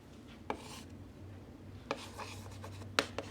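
A teacher writes notes, heard as a few short scratchy strokes and taps of pen or chalk spaced irregularly over a quiet room hum, with no speech.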